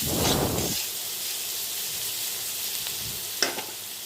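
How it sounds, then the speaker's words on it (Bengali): Vegetables frying in a pan with roasted cumin powder give a steady close hiss and sizzle, briefly louder at the start as they are stirred, with a soft clink near the end. "আমাদের কিন্তু এখানে সবজিগুলো ভাজা হয়ে গেছে"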